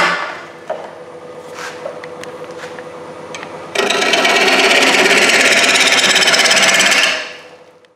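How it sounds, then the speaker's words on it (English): A wood lathe turning a wet-wood oval bowl: a low motor hum with light tool scrapes, then a loud, sustained rough cutting hiss of the gouge on the spinning wood that fades out as the cut ends. "Stop the lathe, I'm gonna move the tool rest up."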